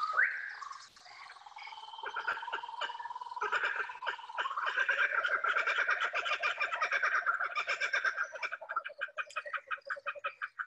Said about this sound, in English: What could be more Australian than a laughing kookaburra?